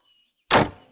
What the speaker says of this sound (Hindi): अरे दरवाजा बंद कर दिया।